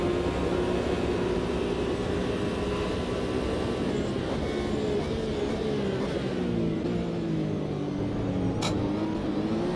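An Audi race car engine in Automobilista 2 drones loudly through the IMSA race, its pitch rising and falling as it accelerates and shifts, with a steady roar throughout.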